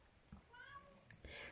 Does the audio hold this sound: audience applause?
no